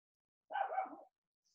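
A small dog barks outside a window at night, one fast burst of roughly half a second, carried faintly through the glass with no talk over it.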